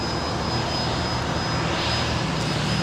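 Aircraft engines at LAX airport with Boeing 747s around, a loud steady roaring drone filling the scene continuously, no talking.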